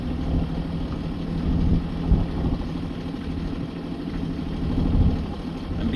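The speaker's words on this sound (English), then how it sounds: "Put the engine on just a little bit." Sailing boat's engine ticking over at low power on passage along the coast, a steady low throbbing drone with slight surges, continuous and moderately close with no voices.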